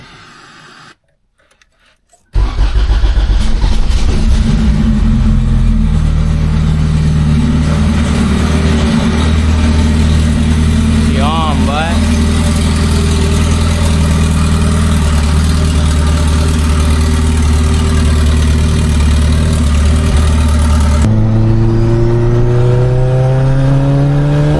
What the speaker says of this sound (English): start up the car, because I do want to hear if I fixed the issue or not